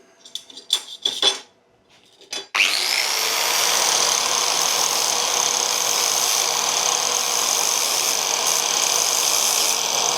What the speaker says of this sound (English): we'll grind that flat